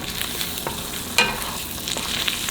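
Food sizzles steadily in a cast iron pan with salt, a continuous close frying hiss broken by a sharp clink or stir about midway and a few lighter scrapes later.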